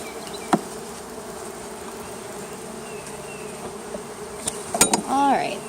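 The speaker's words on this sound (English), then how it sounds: "you can see the bees are kind of drinking it up" Dense, steady buzzing of many honey bees on a frame of a hive, close and continuous, with a few louder passing buzzes and clicks toward the end.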